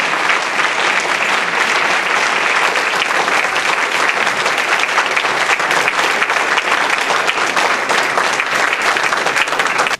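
A large banquet-hall audience at a Puerto Rican cultural gala claps loudly and continuously in a sustained standing ovation for Borinqueneers veterans, dense and unbroken throughout with no pauses.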